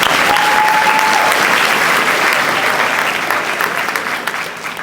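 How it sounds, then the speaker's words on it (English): Audience applause at an 8th grade stepping-up ceremony, a dense, steady burst of clapping from a crowd that holds loud for several seconds before gradually thinning and fading toward the end. "So give yourself a round of applause."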